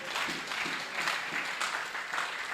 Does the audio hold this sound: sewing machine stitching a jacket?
no